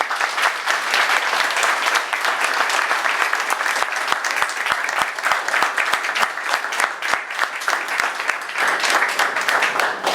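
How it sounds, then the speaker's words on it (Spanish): Dense, sustained applause from an audience at a political assembly of the Frente Nacionalista in Luján, Argentina, loud and close throughout with many overlapping claps and no clear speech. "el aplauso para ella, por favor"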